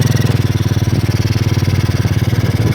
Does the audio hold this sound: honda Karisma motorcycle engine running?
yes